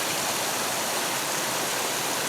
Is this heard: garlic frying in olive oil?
no